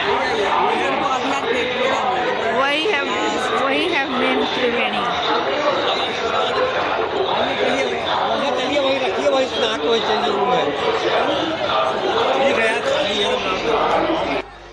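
Pilgrims crowd the main Triveni confluence at the Maha Kumbh at sunrise, a dense, constant murmur of many voices with scattered laughter, while one person speaks close up throughout.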